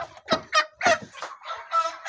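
Chickens cluck in a roadside chicken shop, several birds giving short, close, loud bursts of clucking in an irregular rhythm, with no talk over them.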